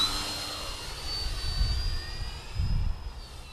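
A Turbo Timber Evolution RC airplane flies overhead, its electric motor giving a steady whine that swells and fades as it passes, with low wind rumble underneath and no talk.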